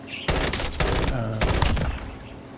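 Automatic weapon fire in the video game Call of Duty comes in two loud, rapid bursts of close shots, separated by a brief pause, with no talking.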